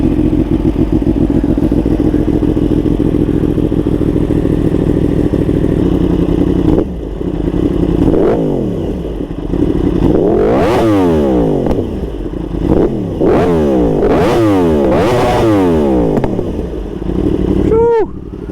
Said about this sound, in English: I'll give you a little startup and sound test too with this exhaust.